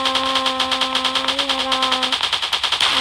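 Rapid-fire shooting in a Tobot transforming robot video game, a fast even stream of shots pulsing steadily throughout, layered over a sustained tonal hum from the game's engine sound or music.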